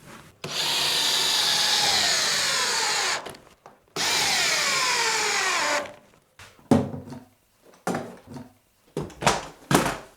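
A power drill drives screws into a soft wooden beam in a workshop storage room build: two long, whining runs of the motor, followed by several short stop-start bursts and light knocks as the screws seat.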